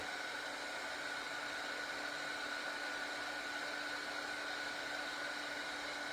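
Electric heat tool blowing hot air to emboss a stamped image on a handmade hexagon flower card, a steady, even whirring hiss with a fixed hum, alone and unchanging throughout.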